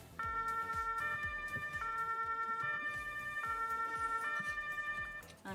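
Fire engine siren wailing loudly and continuously, its two-tone pattern switching back and forth in a steady, repeating cycle.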